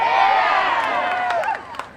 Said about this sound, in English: We're getting a great roar of applause from the crowd.